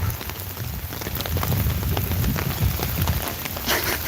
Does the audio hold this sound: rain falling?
yes